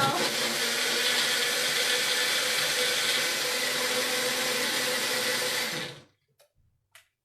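A countertop blender mixing a protein smoothie roars loudly and steadily for about six seconds, then cuts off, leaving a few faint clicks and taps.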